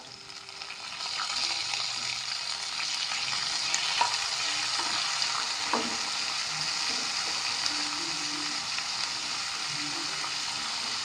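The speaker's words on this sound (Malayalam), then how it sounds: "ഇനി ഇതിലേക്ക് തക്കാളി ഇടാം" Tomatoes frying in a hot pan for tomato chutney give a dense, steady sizzle that starts abruptly and holds evenly, with a few soft stirring clicks, close up and without speech.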